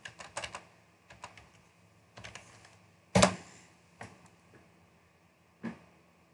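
Clacking of a computer keyboard as a command is typed, a few short bursts of quick keystrokes separated by pauses, with one louder key press near the middle; close and quiet, no voices.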